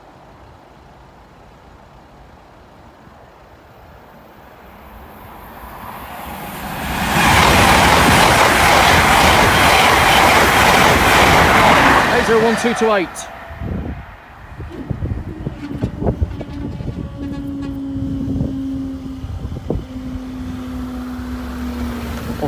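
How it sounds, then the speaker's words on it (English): A late-evening train rushes over a level crossing at Bathley Lane, building from distant rumble to a loud, close roar with clattering wheels for several seconds, then fading into lighter clicks, a squeal and lingering crossing noise. "It is the last train in the area."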